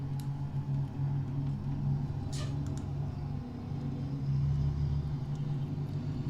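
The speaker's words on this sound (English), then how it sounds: "Sounds like a quiet, modern-day car." A W900 truck engine in American Truck Simulator idles and hums steadily with a low, smooth drone and a brief higher whine partway through, fairly quiet throughout.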